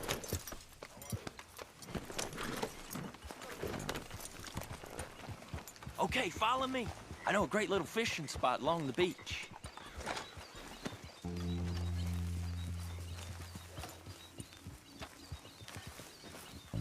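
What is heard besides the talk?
horse galloping, from the video game Red Dead Redemption 2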